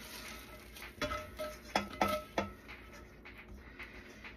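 A utensil scrapes a garlic, onion and mushroom mixture into a pan, giving several soft clinks and scrapes in an uneven rhythm over a quiet kitchen background.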